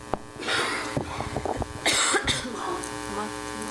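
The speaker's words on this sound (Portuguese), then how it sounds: "Todo mundo tossindo." Several people in a conference audience cough, a cluster of short, rough bursts overlapping one another, with a throat being cleared among them.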